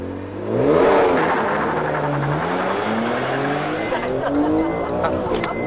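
A BMW Z4 M Roadster accelerating hard, its engine note climbing steadily in pitch through a loud, close, continuous roar that holds for several seconds.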